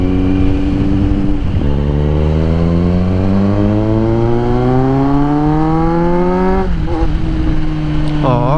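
A motorcycle exhaust heard through earphones with silicone and foam tips at a cafe, a loud, steady engine drone that rises in pitch as it revs, close and continuous, with a couple of short blips at the end.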